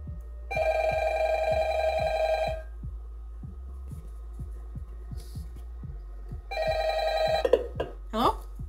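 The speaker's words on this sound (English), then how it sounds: "Here comes a phone call." A telephone rings with an incoming call in two loud electronic bursts a few seconds apart, over a low, steady rhythmic throb, with brief voice sounds near the end.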